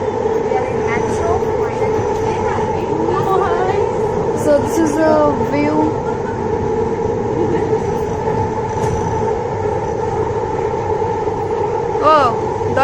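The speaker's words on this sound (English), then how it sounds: "So we already are in metro." Inside a moving metro train: a loud, steady rumble and hum of the carriage fills the whole stretch, with occasional squeals and a person talking close by.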